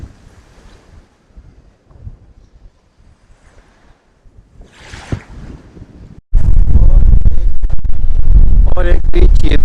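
Sea waves at Maafushi beach in the Maldives, first faint and distant for several seconds, then a sudden loud burst of surf and wind noise close to the microphone.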